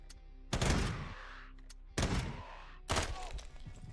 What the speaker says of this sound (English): I guess I could just shoot him with a fucking assault rifle.